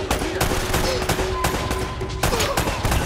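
Rapid gunfire from the Uncharted video game, a run of sharp repeated shots crackling close and loud over steady game noise, with a tonal hum running underneath.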